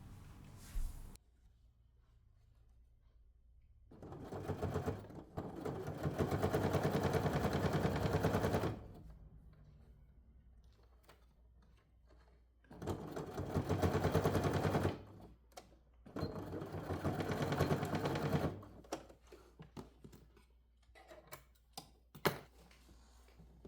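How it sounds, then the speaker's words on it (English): A home sewing machine with a regular foot stitches two sides of a leather handbag together, two pairs of rapid mechanical chattering bursts of several seconds each, separated by quiet pauses with faint handling clicks. "my regular foot was just fine for sewing the 2 sides together."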